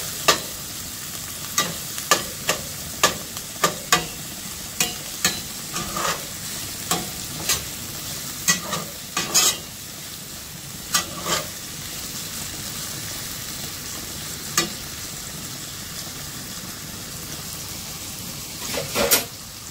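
Vegetables seasoned with salt and black pepper cook in a pan with a constant low sizzle, broken by a run of sharp, regular utensil taps and scrapes that thin out toward the end.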